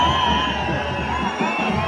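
A large outdoor crowd whoops and shouts at the Nanda Devi Pati festival in Kainyur, with a continuous dense roar of many voices.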